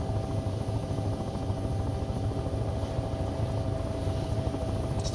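In the video game Take on Helicopters, a helicopter engine drones with a steady, even rotor thrum as the throttle eases back slightly, heard alone without talk.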